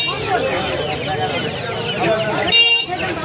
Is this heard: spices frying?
no